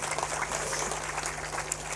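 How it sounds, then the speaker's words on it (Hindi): An audience at a spiritual satsang gathering claps continuously, a dense, even patter of many hands that fills the whole stretch at moderate loudness over a steady low hum. "ताली बजा दो तुम लोग"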